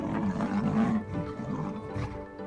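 Lion and tiger fighting, with loud, continuous roaring and growling close by that peaks early, then rumbles on in rough, snarling bursts.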